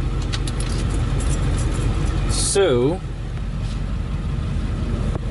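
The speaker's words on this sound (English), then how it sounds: "The engine's running." A Ford bus engine idles with a steady, continuous low rumble throughout, and someone speaks briefly over it partway through.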